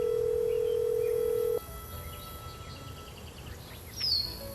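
A steady single-pitch phone tone from the Nancy Drew Secret of Shadow Ranch video game holds for about a second and a half, then cuts off abruptly, leaving faint chirps and a short higher electronic blip.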